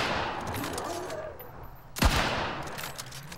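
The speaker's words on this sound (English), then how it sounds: "Somebody shooting at you, Tim?" Video game gunfire: a rapid volley of shots in a noisy battle, with a single louder, sharper blast near the middle of the burst.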